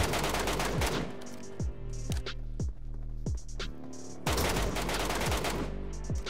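Repeated bursts of gunfire in the Metro Royale mode of a shooter game crack loudly, with sharp individual shots spaced irregularly between denser volleys over a low steady hum.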